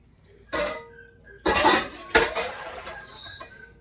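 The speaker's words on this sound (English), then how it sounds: "So let me get the bigger pan." A large pan is fetched and handled in a home kitchen where a smoked pork butt is being prepared: three separate clattering metal clanks and scrapes, close by and fairly loud, with a faint tonal ring in between.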